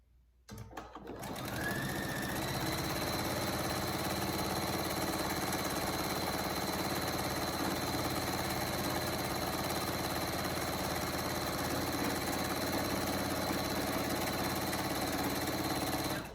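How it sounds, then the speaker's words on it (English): A sewing machine stitches a French seam around the outer edge of a fabric pouch for rescued microbats, its motor humming and ticking in a long continuous run after a brief start, close and steady without talk. "you're going to sew all the way around the outer edge from one end up the other."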